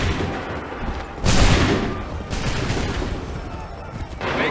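A musket volley erupts in Assassin's Creed III, a loud, crackling burst of massed gunfire followed by scattered rattling shots and a second blast near the end, with voices heard alongside.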